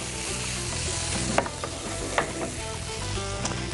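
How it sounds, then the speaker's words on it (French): Egg stirred into frying potatoes in a pan, a steady close sizzle broken by occasional scraping clicks of the utensil against the pan, no talking. "Et on continue de mélanger."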